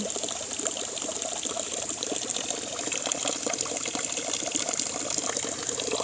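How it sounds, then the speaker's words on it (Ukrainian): Drinking water runs steadily from a lion's-mouth fountain spout into a basin in a park, a continuous splashing flow with no pauses and no voices. "Ось таке джерело питної води. Паща лева такого."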